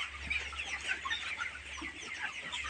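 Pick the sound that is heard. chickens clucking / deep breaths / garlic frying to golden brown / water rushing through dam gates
chickens clucking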